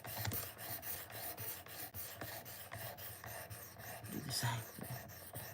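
A knife blade is drawn across a sharpening surface in steady, repeated scraping strokes, close and fairly quiet, with a brief spoken remark near the start.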